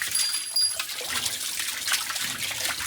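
A thin stream of water trickles steadily into a new water trough at a cow shelter, a soft continuous splashing hiss heard close with no voices.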